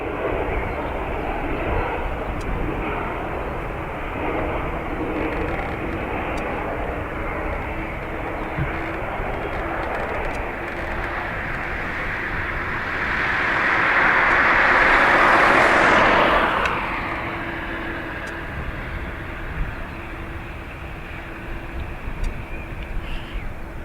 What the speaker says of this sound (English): Shamrock 119er, surface wind is 250 degrees, 8 knots, runway 28 right, clear for takeoff